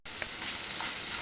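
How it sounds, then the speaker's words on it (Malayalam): Chicken pieces fry in hot oil in a pan with a steady, bright sizzle, close and even throughout, with a couple of faint pops and no voices. "ഇനി നമുക്ക് ഈ ചിക്കൻ പീസ് ഒന്ന് പൊരിച്ചെടുക്കാം"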